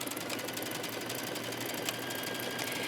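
Sewing machine stitching fine knit fabric with mesh, a steady close whirring hum with a fast, even mechanical rhythm running alone throughout.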